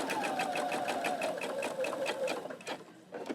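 A sewing machine edge stitches along the border of a fabric napkin, a steady rapid whirring rattle of needle strokes running for about two and a half seconds, then slowing into a few final stitches and a brief stop.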